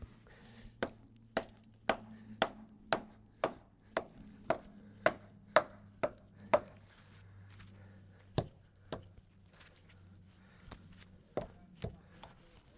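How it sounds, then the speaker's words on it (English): Steady hammer blows on a wooden fence post, about one strike every half second, then a pause and a few slower, irregular knocks. No voices. "Got my hammer for that."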